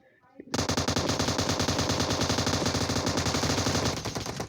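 Machine gun fire in a video game: after a brief quiet moment, a loud, sustained rapid burst of automatic shots rattles on without pause until the end.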